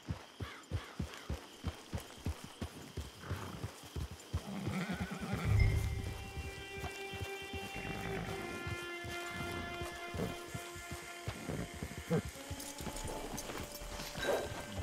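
A horse galloping in the Western video game Red Dead Online, with rapid rhythmic hoofbeats at the start that blend into a louder rush of movement, followed by a sustained mix of layered ambient tones and music.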